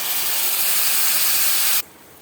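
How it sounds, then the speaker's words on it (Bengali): Ginger-garlic paste with cumin and chilli powder mixed in water, tipped into a hot pan for a Bengali bhetki fish-bone chhorchori: a loud, steady, close sizzling hiss that cuts off sharply near the end. "এবার আমি দিয়ে দিচ্ছি"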